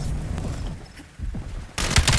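Akimbo MP7 submachine guns in a video game fire in rapid bursts, with a pause midway, then a louder, sharper burst of gunfire closing out the short stretch.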